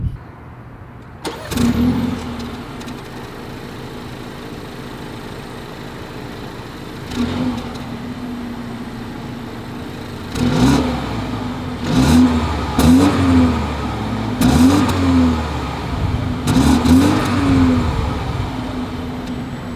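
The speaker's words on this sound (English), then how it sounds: "As always, here is that exhaust clip." A 2022 BMW X2 fires up with a loud exhaust burst, settles into a steady idle, then gets a single blip followed by a run of sharp, repeated throttle revs near the tailpipe, with no talking.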